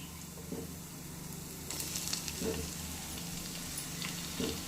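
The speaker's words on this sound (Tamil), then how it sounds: "தக்காளி நல்லா வதங்கி வரட்டும்." Tomatoes sauté in a hot pan for a potato rice dish, a steady close sizzle broken by a few soft stirring scrapes spaced a couple of seconds apart, with no talking.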